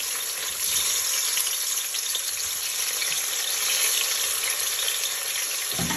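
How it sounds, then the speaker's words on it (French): Onions hitting hot oil in a pan give a steady, close hiss and crackle that runs evenly throughout, with a faint stir near the end. "une fois que l'huile a chauffé, nous allons mettre nos oignons"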